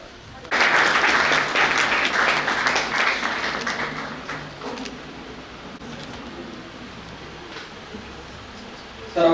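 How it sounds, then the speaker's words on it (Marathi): A crowd applauds at a retirement ceremony, starting with a loud burst of many hands clapping that thins and fades over several seconds, with faint murmuring left in the hall. "सर्वांनी टाळ्या वाजवायच्या"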